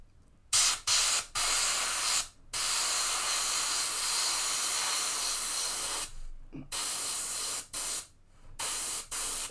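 An airbrush sprays Vallejo Metal Color paint in long, steady hissing bursts, close and loud, broken by short pauses as the trigger is released and pressed again.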